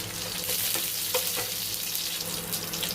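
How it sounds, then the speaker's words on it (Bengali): Green chilies and nigella seeds fry in mustard oil, making a dense, continuous crackling sizzle with a few light stirring clicks. "দুটো কাঁচা লঙ্কা দিয়ে দিলাম"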